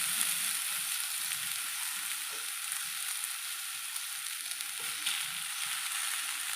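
Grated sweet potatoes fry in a very hot kadai with sugar and nuts, giving an even, steady sizzle with occasional soft stirring clinks. The sound is close but fairly quiet, and no one speaks.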